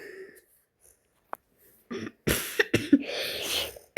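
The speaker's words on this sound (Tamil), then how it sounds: "இருமல் வந்துருச்சு" Several sharp coughs burst out close by after a quiet moment, a quick cluster of harsh, throaty hacks.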